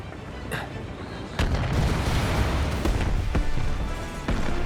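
A huge explosion from the video game Final Fantasy VII Remake: a sudden heavy boom that gives way to a loud sustained rumble, with a few sharp cracks scattered on top.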